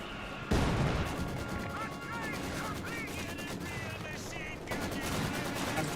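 A bundle grenade goes off in Company of Heroes 2 with a sudden loud blast. Dense crackling gunfire continues around it, and a voice talks over the battle noise.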